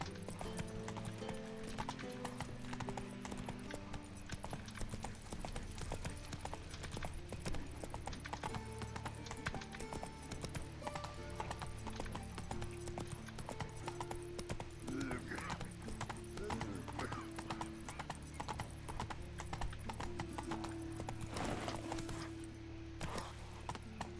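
Horse galloping in a video game, steady rapid hoofbeats running throughout with occasional neighs, under game music and a person talking.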